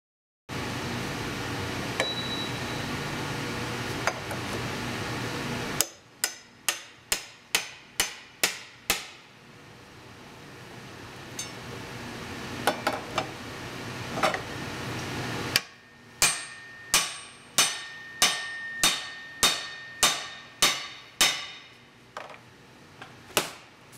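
Ads Rex forcible entry tool being struck to pull a rim lock cylinder: two rapid bursts of sharp metallic hammer blows, about a dozen evenly spaced impacts each, loud and close with no talk.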